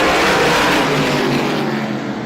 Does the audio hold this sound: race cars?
yes